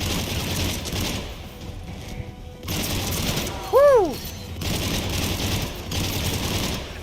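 Weapon fire in the Mass Effect 3 video game comes in short bursts over a busy battle background, with a rising-falling whoosh effect near the middle.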